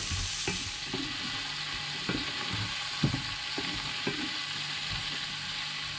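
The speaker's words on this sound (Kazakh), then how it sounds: "Майға қуырып аламыз, дәмді болады." Onions fry steadily in oil with a continuous sizzling hiss, punctuated every second or so by soft scrapes and taps of a stirring spoon.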